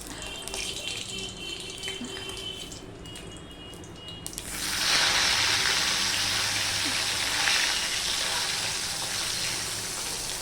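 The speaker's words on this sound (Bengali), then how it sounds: "এবার সবার প্রথমে বাটা মাছগুলো আমি ভেজে নেব" Bata fish sizzling as it fries in a pan, a quieter watery crackle giving way after a few seconds to a loud, steady, broadband hiss of hot oil that continues to the end.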